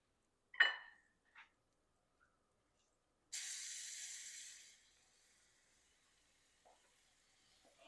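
Two minced garlic cloves dropped into heated olive oil in a pan give a sudden, steady sizzling hiss that fades over a couple of seconds, after a few brief knocks from handling.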